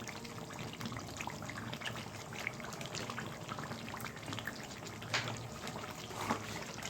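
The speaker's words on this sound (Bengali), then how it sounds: "গোলাপ জল দিয়ে দিচ্ছি দুই চামচের মতো" Rose water trickles in a thin pour into a pot of mutton kacchi biryani, a soft steady liquid dribble that runs near and continuous for several seconds without talk.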